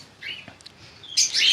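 Lovebirds in a home breeding setup of many mutation pairs chirp in short, bright calls, a few scattered tweets followed by a louder burst of chatter, fairly close and without talk.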